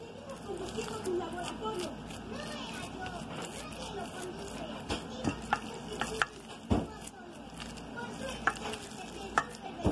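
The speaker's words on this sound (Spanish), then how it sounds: "Añadimos el segundo huevo, mezclamos" Egg and tuna pancake batter is stirred in a bowl with soft, continuous wet scraping and occasional clinks of the utensil, heard under a person's ongoing talk.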